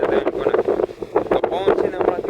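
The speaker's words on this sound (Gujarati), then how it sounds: "તો પવન છે ને હમણાં બહુ ઉડે છે" Strong wind gusting across an okra farm, buffeting the microphone in loud rushing bursts while someone talks throughout.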